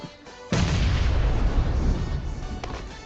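Heavy gunfire from the PUBG Mobile battle royale shooter, a sudden loud burst of booming shots that continues as a dense, roaring barrage for about three seconds with no talking.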